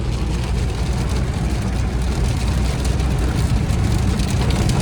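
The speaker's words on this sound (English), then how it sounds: "this is my first time driving in the rain on a trip" Heavy rain pounding a car on a highway road trip, a loud dense steady roar of drops on the body and glass mixed with low engine and road rumble, unbroken throughout.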